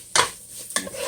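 Chili powder is stirred into a mixture for Tex-Mex enchiladas: two quick scraping strokes of a spoon against a pot, close and brief.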